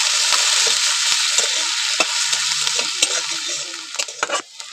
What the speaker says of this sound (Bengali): সবকিছু মিলে ভালো করে একটু লাল করে ভেজে নেবো